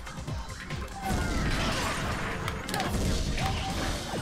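Impacts and punches from Viewtiful Joe clatter in a dense burst of game effects, with sharp thwacks and crashes layered over music and a steady rumble, loudest in the second half.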